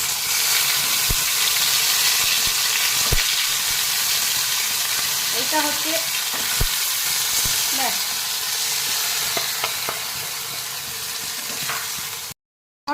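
Marinated hilsa pieces go into hot oil with fried tempering spices, giving a steady loud sizzle and hiss that continues throughout, with a voice speaking briefly over it.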